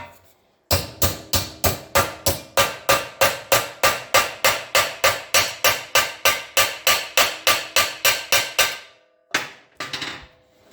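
A hammer taps a folded metal door bottom edge over a clamp during a door bottom repair, about thirty sharp, evenly spaced blows in a quick steady rhythm, close and loud, then a pause and two or three final taps.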